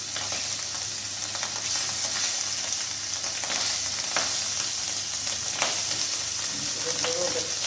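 Peeled scampi fry in hot oil in a pan for a pasta dish, giving a loud, steady sizzle and crackle throughout with faint stirring scrapes.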